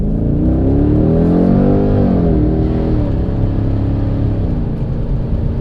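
A car engine revs hard while accelerating, a loud close rumbling roar that climbs in pitch, dips briefly, then holds a steady drone with road noise.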